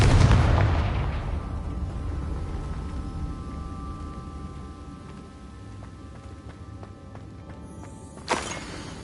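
Confringo spell explosion in Hogwarts Legacy: a loud booming blast at the start that decays into a long rumbling, crackling tail, with a sharper impact near the end.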